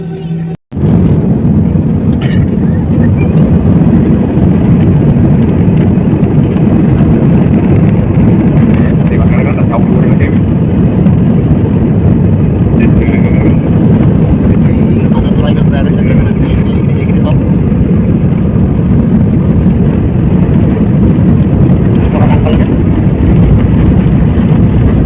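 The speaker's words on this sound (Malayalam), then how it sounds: "വിമാനം അതിന്റെ കുതിപ്പ് തുടങ്ങി." A passenger airplane accelerates down the runway at Delhi airport for takeoff, a steady loud engine roar heard from inside the cabin that holds constant throughout.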